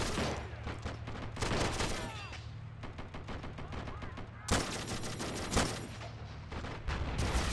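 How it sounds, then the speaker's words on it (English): Ammunition cooking off in the Army Men: Plastic Wars video game sets off rapid volleys of gunfire-like pops and a couple of sharper explosive bursts, moderately loud and continuous across the few seconds. "Oh no, the ammo cooked off."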